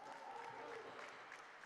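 A crowd at a Frontline Pro wrestling show in Marshfield gives the tag team champions a steady round of applause, a dense even patter that holds at moderate level throughout.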